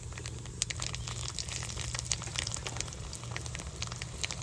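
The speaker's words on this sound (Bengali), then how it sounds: "শুকনো লঙ্কা রসুন ভালো করে ভেজে নিয়েছি" Dried red chillies and garlic fry in oil for a Bangladeshi-style mutton dish, a steady close crackle and hiss with scattered sharp pops, low and even throughout.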